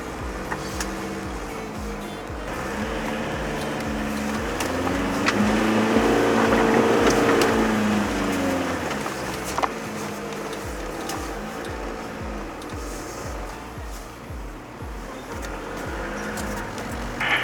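A 2.5-tonne Land Rover Discovery D1 four-wheel drive slides down a greasy, rutted bush track, its engine a steady, close drone that swells in the middle and then settles, with no talk over it.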